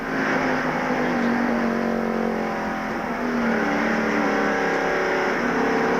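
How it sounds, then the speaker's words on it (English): A NASCAR stock car engine screams at full throttle during the 1995 DieHard 500, a loud sustained high-pitched roar that holds steady throughout. "You can hear that motor wide open."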